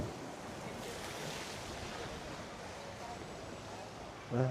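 Steady ocean surf washing onto a beach in Catmon, Cebu, a broad continuous roar close by with wind across the microphone, and a brief louder burst at the very end.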